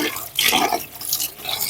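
Wheat grains being washed in water give a brief, close sloshing and swishing with a few splashy surges, lasting under two seconds.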